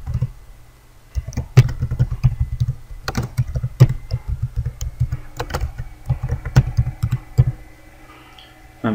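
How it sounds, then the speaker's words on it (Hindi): Quick, irregular keystrokes on a computer keyboard, typing text into Microsoft Word, with close clicky taps in bursts and a few heavier key presses, and a brief pause near the end. "एग्जांपल मैं टाइप करता हूँ,"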